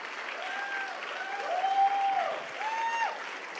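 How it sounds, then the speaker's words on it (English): A crowd at a White House performance applauds singers after a song, steady clapping with cheering voices rising above it in long sustained tones. "Can we give another round of applause, please, to Ben and Micaela and Jason?"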